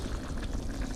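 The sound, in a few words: water poured into pot of cooking red beans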